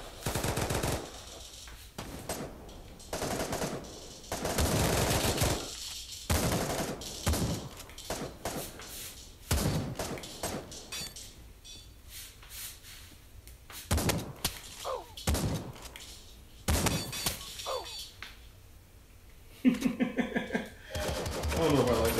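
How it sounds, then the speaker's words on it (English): Shotgun blasts and other gunfire in Pavlov VR on Oculus Quest ring out in many loud, sharp bursts and repeated volleys across a match, with occasional thuds and some talk between shots. "I don't know if I like the shotgun."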